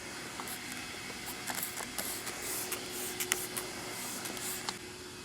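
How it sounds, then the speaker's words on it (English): Technician's Choice 582 spray is misted onto a car's ceramic-coated finish in a series of short, quiet hissing trigger bursts, irregularly spaced over a faint background hum. "Technician's Choice 582 spray."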